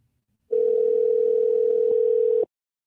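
A telephone dial tone as a phone call connects: one loud, steady continuous tone lasting about two seconds, then cutting off abruptly into silence.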